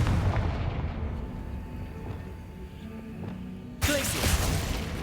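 A Confringo fire spell blast from the Hogwarts Legacy video game bursts in with a loud, sudden boom after a low rumbling stretch, followed by crackling debris and a lingering roar.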